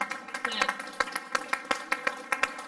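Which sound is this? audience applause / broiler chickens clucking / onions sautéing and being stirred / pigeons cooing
audience applause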